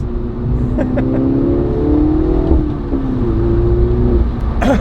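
A 2019 MINI John Cooper Works engine with a JCW Pro exhaust revs with a steady harmonic drone, followed by a few sharp exhaust pops and crackles, loud and close, no talking.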